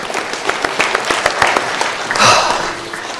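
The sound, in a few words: congregation applause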